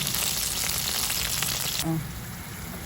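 Chicken frying in a pan gives a dense, loud sizzle close by that eases slightly near the end, with no talking.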